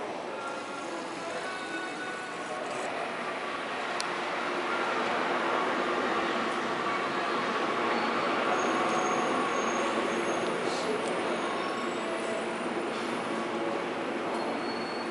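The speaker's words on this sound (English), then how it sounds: "There's a train coming." An airport people-mover train at Tampa International Airport rolls in steadily, its rumble and faint wheel squeal building and holding loud and close for the whole stretch, with a bit of talk underneath.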